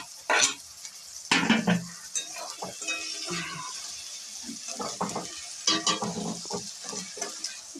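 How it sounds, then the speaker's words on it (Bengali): Bele fish fry with spices in a hot pan, loud sizzling bursts rising and falling while a utensil stirs and scrapes, with clinks of cookware at close range. "এবার মাছগুলো এর মধ্যে দিয়ে দেবো।"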